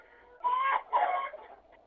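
A rooster calls among clucking hens in two loud, close bursts, each under half a second, with no talk.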